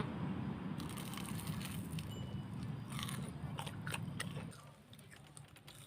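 Someone bites into crispy fried red sausage, giving a run of crunchy bites and chewing up close, with louder crackling crunches midway before it eases off.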